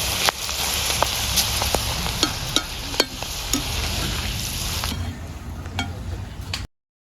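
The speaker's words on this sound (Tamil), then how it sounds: "முதல்ல வந்து பப்படத்தை போட்டு பொரிக்க போகிறா" Hot oil sizzles steadily with occasional sharp crackles and pops as thin papadum fries, then the sizzle softens before cutting off.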